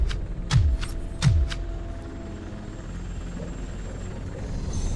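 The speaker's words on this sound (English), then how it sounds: "That's a TV helicopter." A TV news helicopter in the video game Robocop Rogue City gives a steady, low rotor rumble throughout, with two short low thuds near the start and no voices.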